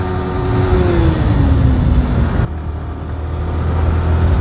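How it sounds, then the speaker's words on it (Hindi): A car's exhaust drones loudly and steadily while driving, a low rumble with a slight pitch fall as the engine eases, then a continuing road hum. "एग्जॉस्ट की आवाज़ सुनो"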